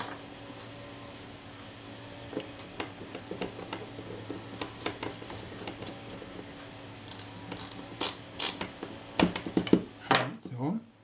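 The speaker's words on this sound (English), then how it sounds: "I will put my film advance lever back on there and check the timing." A film advance lever is refitted on a Retina IIa camera with corrosion, producing small metallic clicks and taps that grow into a quick run of ratchet-like clacks near the end.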